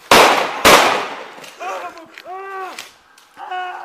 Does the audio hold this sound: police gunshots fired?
yes